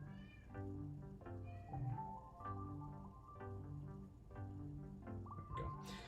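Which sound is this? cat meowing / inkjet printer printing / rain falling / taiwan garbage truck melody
cat meowing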